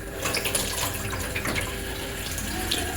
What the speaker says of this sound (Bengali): ডালটা ভালো করে ধুয়ে ভিজে রাখবো